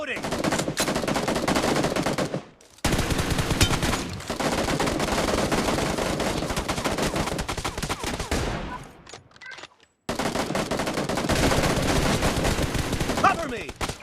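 Gunfire from the mobile game BGMI in team deathmatch mode, with rapid, loud automatic bursts that pause briefly between volleys.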